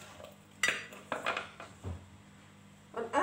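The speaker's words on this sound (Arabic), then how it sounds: "الآن انتهينا من تقطيع الفلفل الحار." A knife cuts hot red chili peppers for Tunisian harissa, giving a few separate clacks and taps on a board and dish, fairly close and faint, with quiet gaps between them.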